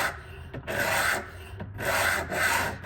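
Knife blade rubbed in strokes across a 120 grit sharpening stone: steady, close, gritty scraping in three or four back-and-forth passes with brief pauses between them, no voices.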